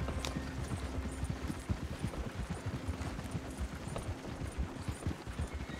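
Horse hooves clip-clop steadily alongside a wagon in the Red Dead Redemption 2 video game, a continuous rhythmic trotting over a rumbling low roll, moderately loud with no talk.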